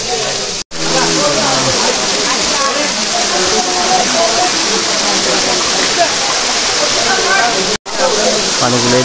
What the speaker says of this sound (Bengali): পানি পড়তে আছে, তিনটা কোয়ারা, তিনটা ফোয়ারা দেখা যাচ্ছে ঝর্ণার।